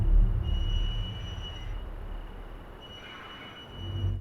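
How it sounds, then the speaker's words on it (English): Faint, distant whistling tones drift over a low rumbling background in the Hello Neighbor Alpha 3 game, sounding like a far-off train whistle that fades in and out. "there is the sound of a whistling sound, such as a possible train whistle"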